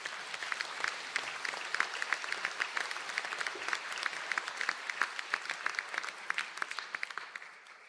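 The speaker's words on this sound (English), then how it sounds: "Could we have a round of applause, please, for the graduates?" A seated audience at a graduation conferring ceremony applauds the graduates with steady, continuous clapping from many hands. It sounds moderately distant, with no talk.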